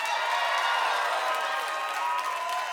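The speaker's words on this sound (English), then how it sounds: "clap it up for Roots Lounge" Poetry slam audience at a spoken word event applauds in a steady, even wash of clapping with a few cheers, sustained throughout.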